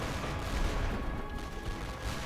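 Dense, continuous gunfire and rumbling battle noise from The Great War: Western Front, a First World War strategy game, fill the scene with overlapping machine-gun bursts and distant booms at a steady level.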